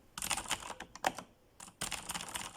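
Text typed on a computer keyboard in quick bursts of close, crisp key clicks, with a short pause midway and no talking.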